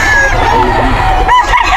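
Roosters crow loudly and close by at a pet market, one long cock-a-doodle-doo overlapping with clucking from other fowl.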